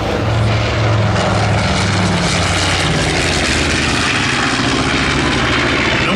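The B-25 bomber Panchito passes low at an airshow, its piston engines and propellers giving a loud, sustained droning roar with a throbbing low pulse that fills the whole stretch.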